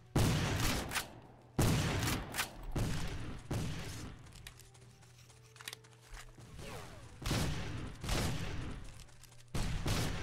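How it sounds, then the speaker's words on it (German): Gunfire in a Call of Duty-style American Civil War game mod with period revolvers, a series of sharp shots and bursts at irregular intervals, loud and close, separated by quieter stretches of background game noise. "So, schnell nachgesetzt, den nächsten Schuss."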